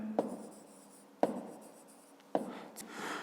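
A pen writes a math solution by hand on paper in three short scratchy strokes, each starting with a sharp tap on the page, close and quiet.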